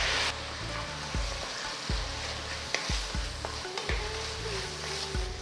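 Onions sauté in a pan for a Tamil tiffin side dish, giving a steady, close sizzle broken by regular stirring scrapes and soft knocks of the spoon against the pan. No one speaks.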